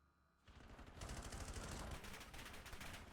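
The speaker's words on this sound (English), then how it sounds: "There's a lot of bullets going through." Counter-Strike style game in a Division 3 grand final esports match: after a brief lull, sustained automatic rifle fire erupts and continues densely, several guns rattling over each other in a loud steady barrage.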